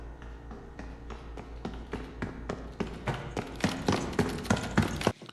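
Approaching footsteps in Black Ops 6, a long series of quick tapping steps that start faint and grow steadily louder and denser, then stop abruptly.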